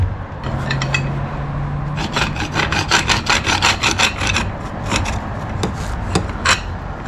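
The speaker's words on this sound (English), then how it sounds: "File it down" A hand file rasps on a metal truck spindle knuckle from a C1500, a quick run of short scraping strokes in rhythmic bursts, close and distinct with no talking.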